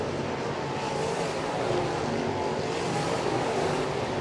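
Crate race cars at the East Bay WinterNationals roar past on a racetrack, a loud, steady engine drone holding throughout without a break.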